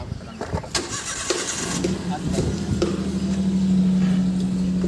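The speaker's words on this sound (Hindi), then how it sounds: "फिर मैंने अभी इंजन स्टार्ट कर लिया" A car engine being started: cranking, then the engine catches and settles into a steady idle that grows louder and more even, while someone talks over it.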